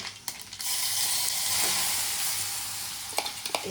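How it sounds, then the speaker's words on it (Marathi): Mustard seeds and turmeric in hot oil for batata vada filling crackle and sizzle loudly and continuously, a dense close frying hiss with a few sharper pops near the start and end. "मोहरी बरी फडफडली आहे. त्याच्यात थोडीशी हळद टाकूया."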